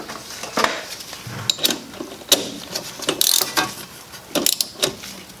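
Ratchet wrench clicking as a brake line bolt is tightened on a Honda Civic's rear brake: close, quick bursts of metallic clicks and clanks in irregular spurts, with no talking.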